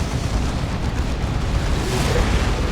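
Orbital bombardment blasts rain down in a Warhammer 40,000: Dawn of War 2 battle between Space Marines and Chaos Space Marines, a dense continuous rumble of explosions rolling on without pause, loud and close.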